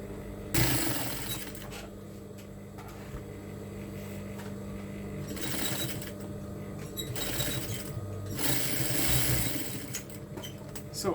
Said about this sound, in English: So I'm going to start sewing.